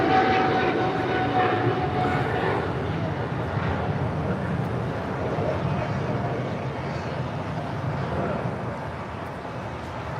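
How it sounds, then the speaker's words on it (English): A Boeing 777-300ER airliner on its takeoff run at LAX, bound for Manila, gives a steady, loud, broad jet roar that holds for about ten seconds with little change. "Flight 113 taking off to Manila on a 777-300ER"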